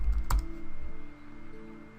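A computer keyboard clicks as a username is entered on a sign-up form, a few close keystrokes with one sharp tap standing out over a low background hum.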